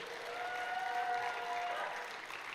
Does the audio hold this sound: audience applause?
yes